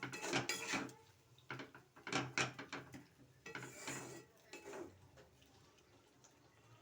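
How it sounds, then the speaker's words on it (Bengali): Masala spice paste is stirred and sautéed in a pan, with irregular scraping and clinking of a utensil against the metal over a soft sizzle, close and moderately loud, with no talk. "মশলাটা কষা হোক"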